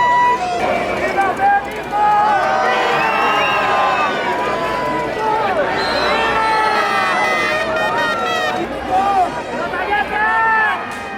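A huge, loud crowd packs a Mexico City square waiting for El Grito during the 2021 Fiestas Patrias, with shouting voices, whoops and rising calls layered over a constant roar of babble.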